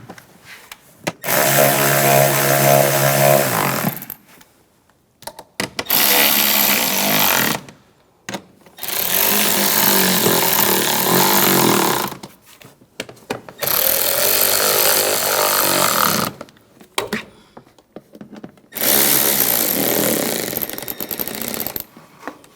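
A power tool runs in several bursts of a few seconds each while tightening valve cover screws on a 2008-2013 BMW 328i xDrive, loud and close, with short silent gaps between runs.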